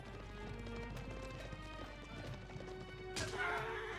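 Horse cavalry hooves clatter in rapid clip-clop rhythm during an Age of Empires 4 battle, a soft, continuous game effect with a brief crash near the end.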